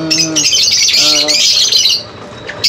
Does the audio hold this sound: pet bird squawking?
yes